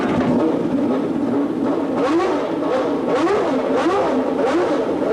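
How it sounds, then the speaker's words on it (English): A Ferrari 641 Formula One car with a 12-cylinder engine, driven on a wet private test track, screams loudly and continuously as it accelerates, its pitch rising and falling through repeated gear changes. "The 12-cylinder engine snarls as Mansell accelerates away"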